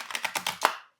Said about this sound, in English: But we're going to give it a few extra swishes as usual.